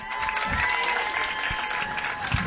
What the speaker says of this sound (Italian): vi chiederei subito un immenso applauso